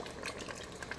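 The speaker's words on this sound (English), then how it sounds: "I'm gonna add the water" Water from a blender is poured into a cooking pot of egusi soup, a brief gushing splash and trickle heard close by without voices.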